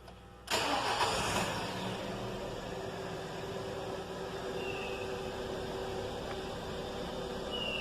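A car engine cranks and catches from cold, firing up abruptly and settling into a steady, fairly loud idle that runs on with no talk over it.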